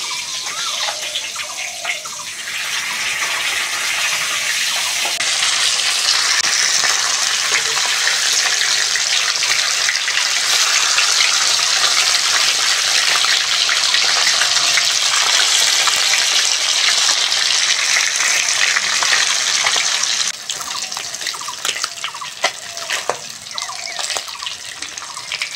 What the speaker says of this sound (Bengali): আর এক পিঠও লাল লাল করে ভেজে নেব।